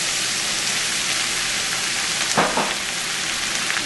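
Sauteed vegetables sizzle loudly and steadily in a hot pan as tomatillo sauce is added, with a brief sharper surge of crackling partway through.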